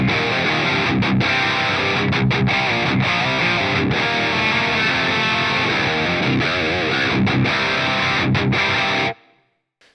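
A distorted electric guitar through a BOSS GT-1000 with room reverb, a loud dense riff of sustained chords broken by short palm-muted stops, ending suddenly with a brief reverb tail fading out.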